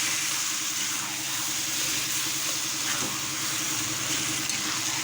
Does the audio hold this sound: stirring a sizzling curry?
yes